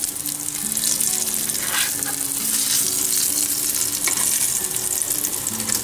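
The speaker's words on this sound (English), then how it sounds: "Literally, I'm only going to let those nuts cook for just a minute because they will burn so easily" Pistachio nuts sizzle in a hot pan, a continuous close crackling fry with light stirring and no talk.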